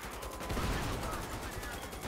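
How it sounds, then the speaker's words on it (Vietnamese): Rapid machine gun fire in the video game GTA 5 rattles in a dense, continuous burst, loud and close, with no speech over it. "cái tiếng súng này bắn nghe đã ghê luôn các bạn ơi. Đúng thì kiểu là súng máy luôn á."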